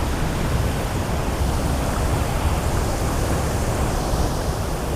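Floodwater pours loudly across a river crossing at Channat Waterfall, a close, unbroken roar of churning water that holds at a constant level throughout, with no one speaking.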